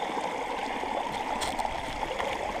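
A stream flows steadily around someone standing knee-deep while digging a hole to wash gold with a sluice box, with a loud, continuous rushing and gurgling of water close by.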